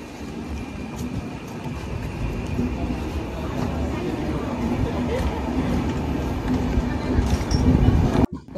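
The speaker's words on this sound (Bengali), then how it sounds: "ট্রেন আমাদের ছেড়ে দিয়েছে।" A train pulling out of New Bongaigaon station, heard from on board as a steady low rumble and rolling clatter that builds gradually, with faint voices in the background.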